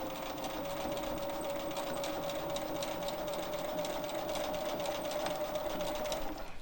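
A sewing machine quilts steadily along the top edge of a quilt block in a quilt-as-you-go project, its motor humming close and continuous with a rapid needle rhythm, no talk over it.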